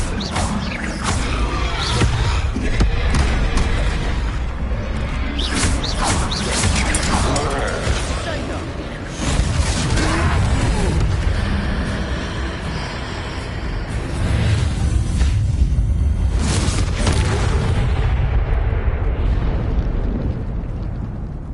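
Confringo fire spells exploding in combat in the Hogwarts Legacy video game, dense repeated blasts and crashes layered over continuous battle noise and music, loud throughout, with voices talking over the fight.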